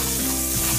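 Poultry flipped breast side up in a hot pan sizzles and crackles loudly and close, a short dense burst of frying.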